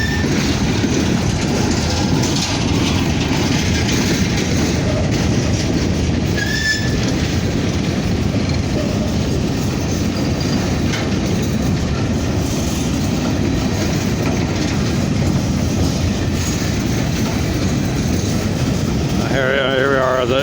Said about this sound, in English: This is a heavy train.